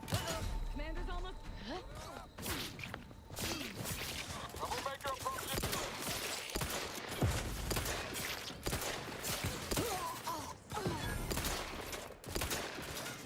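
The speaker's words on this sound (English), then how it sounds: "Somebody is firing." Dense, chaotic gunfire in the video game The Outer Worlds 2, rapid overlapping shots and impacts throughout, with a voice talking over the combat.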